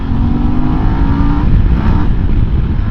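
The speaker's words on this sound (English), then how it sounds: "Oh, the gear change again." A QJ Motor 900 motorcycle is ridden with a steady engine drone, and partway through the pitch drops abruptly as it shifts gear, then continues close and loud.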